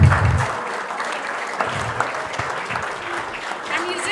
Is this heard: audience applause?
yes